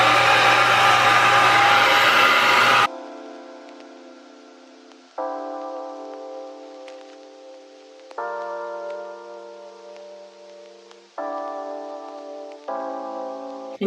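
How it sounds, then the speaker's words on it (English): A handheld blow dryer drying hair gives a loud, close, steady whooshing roar for about three seconds. It cuts off abruptly, and sustained musical tones follow. "I blow dry my hair using the tension method, meaning that I'm going to angle my blow dryer towards my hair"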